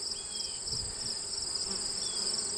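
Honey bees swarm around an opened beehive during a honey frame check, their buzzing a steady high drone that stays constant throughout, with a few faint handling knocks underneath.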